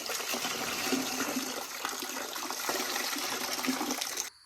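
Coolant water from a John Deere 4440 tractor engine pours and splashes into a bucket, a steady close-up rush with some spill, running unbroken for about four seconds before cutting off.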